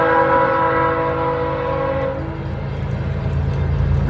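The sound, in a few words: train approaching and honking its horn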